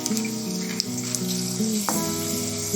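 Steady sizzling and crackling of bay leaf, black pepper and cloves frying in hot oil, continuous and close, with a faint clink partway through and no talking.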